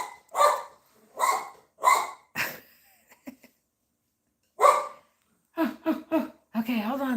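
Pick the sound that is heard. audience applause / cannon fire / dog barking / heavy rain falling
dog barking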